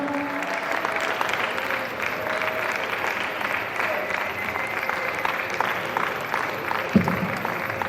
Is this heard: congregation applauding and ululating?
yes